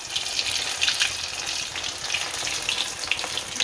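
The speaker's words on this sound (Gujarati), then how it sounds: "આને તળી લઈશું." Poha and potato snack pieces frying in hot oil, a steady dense sizzle with crackling bubbles that holds evenly throughout, close and fairly loud with no talking.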